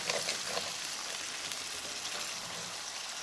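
Canned diced tomatoes hit a hot frying pan with a steady, bright sizzle that holds evenly throughout, close and fairly loud, with faint scraping and stirring and no talking.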